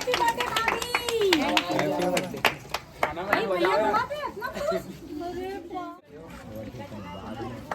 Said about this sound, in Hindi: बजाओ ताली बजाओ यार।